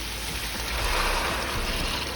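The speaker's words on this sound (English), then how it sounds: "I'm gonna fill it with water. So cold water." Cold water running from a tap into a one-liter container, a steady close hiss and splash that continues evenly without pause.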